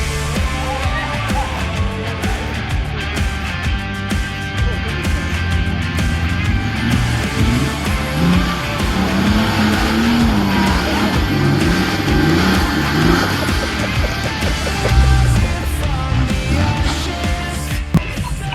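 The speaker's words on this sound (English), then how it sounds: "This is Daniel in his weapon of a GU, giving it a hell of a heavy right foot, flogging up this wombat hole" A Nissan Patrol GU engine labours hard off-road up a steep, rutted wombat hole, a loud continuous roar with revving surges under heavy throttle that stays close and dominant throughout.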